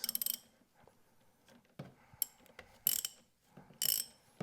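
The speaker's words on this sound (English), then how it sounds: "all you need to do is disconnect the negative terminal of your battery by doing this." A 10mm socket ratchet loosening the negative battery terminal on a 2022+ GR86 or BRZ, giving short bursts of close metallic clicking between quiet gaps.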